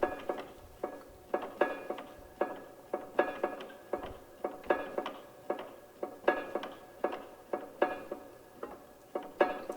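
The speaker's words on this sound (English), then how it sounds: "finger mute type thing happening with the strings that sounds like this" Finger-muted strings of a worn piano played live in a steady rhythmic pattern, each dampened pluck giving a short percussive knock with a brief pitched ring, repeating about twice per second, close and dry, with no voices.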